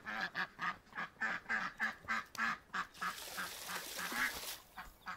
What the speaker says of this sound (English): Or whatever side the ducks decide to be on.